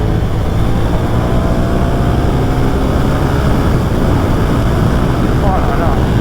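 A 1997 Suzuki TL1000S motorcycle being ridden, with a loud, constant roar of engine and wind noise filling the whole stretch without a break.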